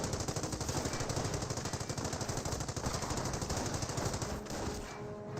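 An MG42 machine gun in Company of Heroes fires a long, steady rattling stream of rapid shots, loud and continuous for several seconds before easing off at the end, with no talk.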